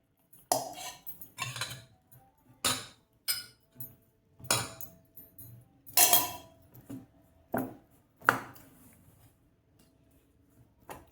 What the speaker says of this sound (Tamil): சூடான பாகை மாவில் ஊற்றி கலரி கொடுக்கணும்